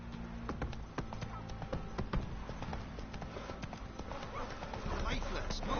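Horse hooves trot in a rhythmic clip-clop in The Witcher 3, steady and fairly close, running under game voices and dialogue throughout.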